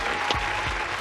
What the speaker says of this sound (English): Let's clap it in for this queen real quick